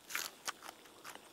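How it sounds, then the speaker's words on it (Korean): Crunchy Korean water parsley (minari) chewed close up, a few crisp, wet crunches in quick bursts with brief pauses between, no talking. "미나리가 이렇게 아삭아삭했나?"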